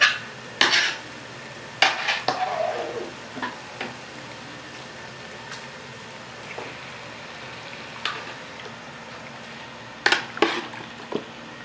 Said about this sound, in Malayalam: ഇനി നമ്മൾ മാരിനേറ്റ് ചെയ്യാൻ മാറ്റി വെച്ച ചിക്കൻ ഇട്ട് കൊടുക്കുകയാണ് ഇതിലേക്ക്.